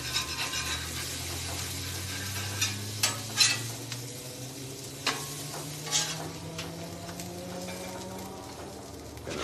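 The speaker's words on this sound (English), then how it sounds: "let's break them loose from the griddle" A metal spatula scrapes smashburger tacos loose from a sizzling griddle: a steady fry hiss with several sharp scraping strokes close by, and no talking.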